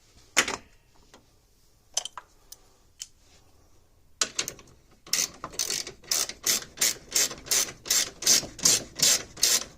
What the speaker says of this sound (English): We'll tighten those down with a 14 millimeter.